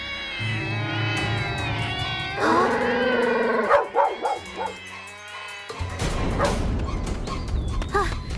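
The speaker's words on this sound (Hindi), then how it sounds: "यहाँ तो सारी जंगली बिल्लियाँ हैं" Several feral cats meow and yowl in overlapping, drawn-out cries, with a few sharper yips and rough squalls mixed in, loud and close, in a cartoon.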